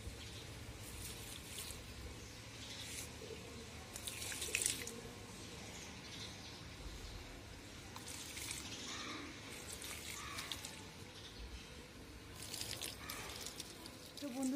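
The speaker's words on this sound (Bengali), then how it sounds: "প্রথমে আমি গাছগুলোকে জল দিয়ে দিই" Water running from a tap or hose onto plants in the morning, a steady splashing and trickling stream that continues throughout with small bursts, close by and moderately loud.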